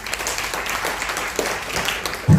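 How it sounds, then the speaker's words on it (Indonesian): A church congregation at a Jakarta family blessing service claps together in a steady, dense burst of applause that fills the room throughout. "Tepuk tangan bagi Yesus."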